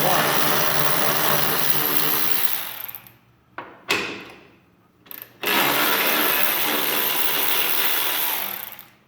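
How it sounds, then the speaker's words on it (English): A Milwaukee electric ratchet removes 13 mm bolts on a BMW M2 during an air filter install, giving loud, close whirring bursts, one long run, two short spins and another long run. "So I'm gonna go ahead and use my Milwaukee ratchet, which I freaking love. It's a 13 millimeter and there's 4 bolts."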